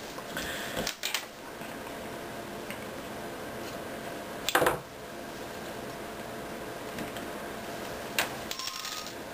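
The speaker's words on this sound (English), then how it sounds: "With this cutter we can actually cut three or four at a time." Chainmail rings being snipped from a wire coil with a cutter, several at a time: three sharp metallic clicks, spaced a few seconds apart over a quiet background, close and fairly crisp.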